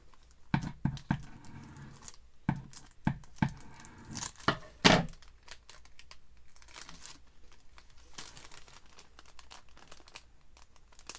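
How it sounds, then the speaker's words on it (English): Double-sided tape being applied for a sock craft project, close crinkly tapping and peeling sounds in a quick irregular run of sharp clicks, then softer rustling as things settle, no talking. "just put some double-sided tape there."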